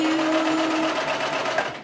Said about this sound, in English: I don't think this thing was designed to sew fur